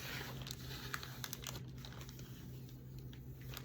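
Cellophane or a plastic baggie crinkling by hand during a Christmas wood scrap craft project, a close, busy rustle of quick crackles and small taps over a low steady hum.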